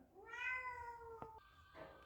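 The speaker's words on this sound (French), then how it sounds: "elle avait un miaulement bizarre" A cat gives a single drawn-out, rising and falling meow with an odd tone, heard close and fairly clear against a quiet room.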